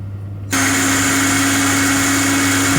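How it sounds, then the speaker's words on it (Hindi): A kitchen mixer grinder jar coarsely grinds broken, crisp samosa pieces, switching on abruptly after a brief quiet moment and then running as a loud, steady whine, close up and with no talking. "तोड़ने के बाद एक मिक्सी में ग्राइंडर कर लो, एकदम दरदरा कर लेने का।"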